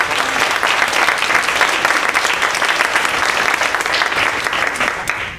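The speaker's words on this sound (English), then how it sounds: "Can we give them another round of applause?" An audience applauds loudly and steadily, a dense wash of clapping that holds for several seconds before tapering slightly at the end.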